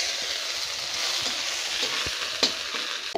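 Ginger hits hot oil already holding cumin seeds and bay leaves, giving a steady bright sizzle and crackle with a few spoon scrapes and pops at close range.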